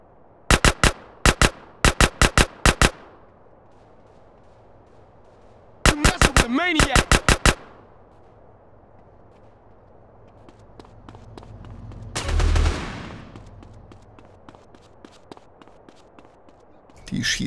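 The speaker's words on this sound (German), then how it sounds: "Die schießen auf jeden Fall auch mit schwerem Kaliber auf mich." Heavy-caliber gunfire in the GTA San Andreas video game during a gang war, loud sharp volleys of evenly spaced shots in two bursts, then a booming blast later, over quiet background.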